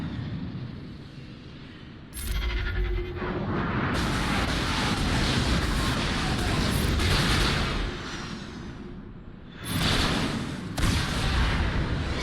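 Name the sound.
bombs exploding in a video game (Star Wars Galaxy of Heroes)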